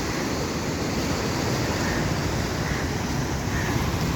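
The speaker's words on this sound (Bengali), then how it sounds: "কিন্তু এত বিশাল বিশাল ঢেউ," Large sea waves roll in at Katrali beach, a constant loud roar of surf with wind buffeting the microphone, no voices heard.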